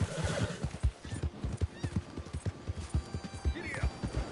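A horse neighs in a PS4 video game, a bright whinny rising over steady clip-clopping hooves, with a person talking over the game sound.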